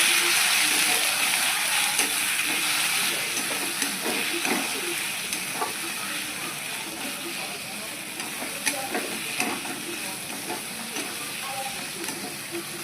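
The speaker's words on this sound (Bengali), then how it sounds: "মশলাগুলো প্রায় কষানো হয়ে এসছে।" Masala spices and vegetables frying in a kadai while being stirred, a steady broadband sizzle with scattered scraping clicks from the spoon, close and fairly even throughout.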